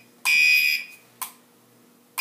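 An ESL 541NB smoke detector sounds its alarm right after a magnet sensitivity test, giving a loud, shrill electronic tone of about half a second followed by shorter repeating beeps, heard close and alone.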